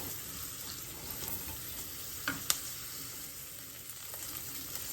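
Chopped onions fry in a pan for vegetable quinoa, a soft continuous sizzle with faint crackles and a couple of brief clinks of stirring, quiet and close, no talking.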